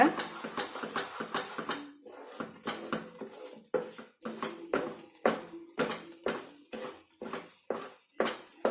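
Thick pottukadalai (roasted gram) halwa being stirred in a pan with ghee, a steady run of close scraping and clinking strokes of spoon against metal in an uneven rhythm, with no voices.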